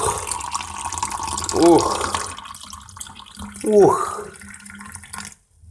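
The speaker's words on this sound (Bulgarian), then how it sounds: "И допълваме с вода." Water being added to a mixed drink, a steady pouring rush at the start, followed by two loud voiced exclamations that rise over the fading liquid sound.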